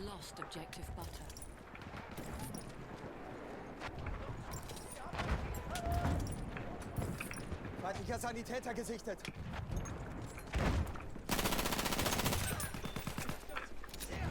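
Battlefield 1 gunfire crackles through a World War I battle: rapid bursts and single shots, some near and some distant, that run almost continuously. Someone talks over much of it.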